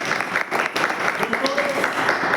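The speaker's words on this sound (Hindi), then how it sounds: "एक बार जोरदार तालियां जिस इंसान ने मुझे बिजनेस के अंदर जन्म दिया, मिस्टर इरफान जी और मिस्टर मोहित पाल भाई के लिए एक बार जोरदार तालियां" Audience clapping for two honoured guests at a business gathering, a dense burst of applause across the whole moment with a voice speaking over it.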